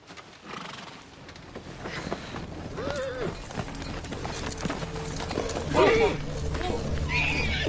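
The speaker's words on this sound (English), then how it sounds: "That's my Uncle Benjamin's horse." A horse whinnies amid clopping hooves and a busy outdoor scene, with people talking over the commotion.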